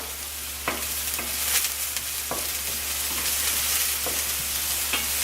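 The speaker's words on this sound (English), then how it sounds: "Give my onions a stir." Onions sautéing in a pan for risotto, a steady loud frying sizzle with occasional light utensil taps and scrapes as they are stirred, set against a low constant hum, no speech.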